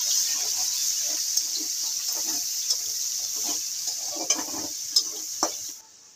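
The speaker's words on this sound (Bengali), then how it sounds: "পেঁয়াজটাকে বন্ধুরা আমি এবার একটু লাল লাল করে ভেজে নেব" Chopped onion sizzles steadily in hot oil for a shrimp and taro-stolon curry, a continuous hiss with scattered spatters and stirring clicks, then cuts off near the end.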